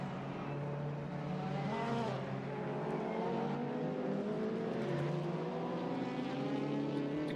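Simulated touring cars from a BTCC sim race at Brands Hatch GP drone and rev together, a loud continuous engine whine with shifting pitch from several cars at once.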